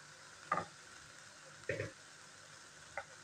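Spatula stirring onion, cabbage and shredded chicken spring roll filling in a pan, three separate scraping strokes spaced about a second apart over a faint, quiet background.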